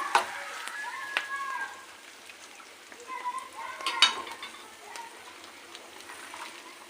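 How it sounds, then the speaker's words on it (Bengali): Onions frying in a pan for an egg jhappa recipe, a quiet close crackle and sizzle with scattered pops and light stirring clinks, no voices. "এখানে আমি পেঁয়াজ একটু বেশি করে ভাজি করে নেবো"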